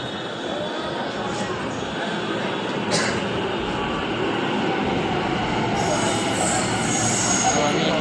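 A metro train rolls into a station, its steady rumble and rail noise filling the clip, with wheel squeal and brake hiss rising near the end while people talk in the background.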